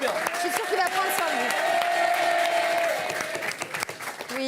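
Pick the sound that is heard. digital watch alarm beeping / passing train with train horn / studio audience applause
studio audience applause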